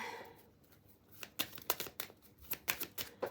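Tarot cards drawn one after another and laid down on a surface, giving a quick series of crisp, close snaps and slaps after a quiet start.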